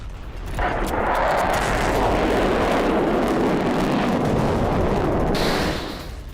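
A rocket attack strikes an Israeli base at Kiryat Shmona, heard as a loud, sustained roaring blast that swells quickly and holds for several seconds before cutting off.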